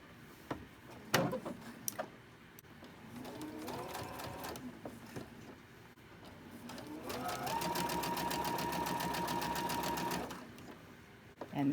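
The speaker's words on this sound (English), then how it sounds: "So I'm going to go ahead and I'm going to chain stitch these 2." Sewing machine chain stitching two pinned pieces of slippery cotton quilt-block fabric: two runs of fast, steady mechanical whirring stitching, the second longer and louder, with clicks and handling sounds between, close and without talk.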